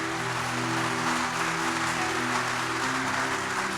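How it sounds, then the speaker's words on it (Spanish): Church congregation applauding together during a worship service, a steady, dense wash of clapping that holds at an even level for several seconds with no voices over it. "Aplaude con fuerza al Espíritu Santo."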